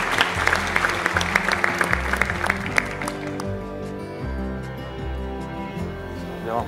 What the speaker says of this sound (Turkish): Alkışlarla oynuyoruz.